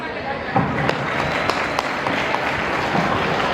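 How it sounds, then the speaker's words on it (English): Parents and guests applaud before a student yoga performance at a school celebration, a steady crackle of many hands clapping throughout with a few sharper claps standing out. "Let us encourage them with a big sound of applause."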